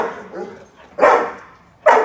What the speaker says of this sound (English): How are they going to tell me? By barking.